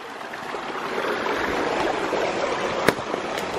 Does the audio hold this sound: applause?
no